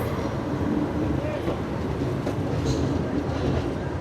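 A superfast express train pulls into platform 5 at KSR Bengaluru station, a steady broadband rumble of rolling cars with faint wheel clatter, loud and continuous throughout with no clear speech.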